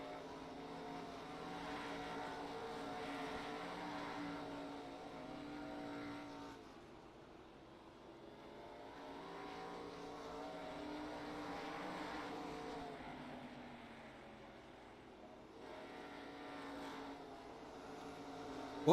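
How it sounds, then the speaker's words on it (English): Race cars lap Hickory Motor Speedway in an RJC event, their engines droning continuously at a distance and swelling and fading as they pass, with no talk over the sound. "I like the way these cars look and sound on the track."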